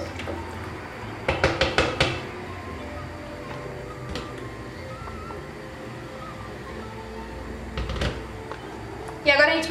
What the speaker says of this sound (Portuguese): E agora a gente vai fechar a panela de pressão, né?